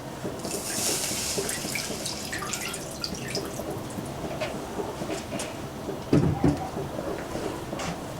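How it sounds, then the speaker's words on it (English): Filtered water pours into a cooking pot in a home kitchen, a quiet trickling and splashing with scattered drips, plus a brief clatter of cookware near the end. "I will put water here to boil stuff quickly."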